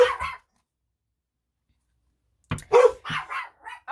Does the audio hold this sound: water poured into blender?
no